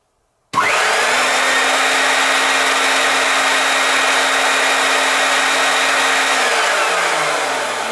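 A Hoover Constellation 867A vacuum cleaner motor, running with its top cover off, starts abruptly and drones at a loud, steady whine for several seconds before beginning to wind down near the end.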